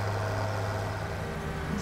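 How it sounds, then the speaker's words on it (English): A farm vehicle engine runs steadily in the Farming Simulator 17 video game, a constant low mechanical hum at moderate level with no pauses. "It's got a good sound to him. Good engine."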